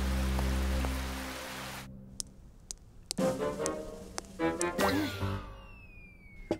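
Steady hiss of rain falling in an animated cartoon, loud for about two seconds before giving way to scattered taps and other quieter sounds.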